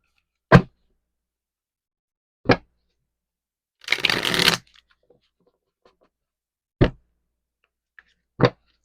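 Tarot cards are shuffled in one brief, close riffle lasting about half a second, set among a few isolated sharp card taps in otherwise silent surroundings.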